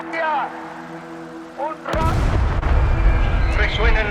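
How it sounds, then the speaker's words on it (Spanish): A bomb bursts in a crowded plaza during a political rally in Argentina: a sudden, loud, broadband blast roughly halfway through, followed by sustained rumbling and crowd noise, with a voice heard briefly before it. "Resuena en la plaza una explosión."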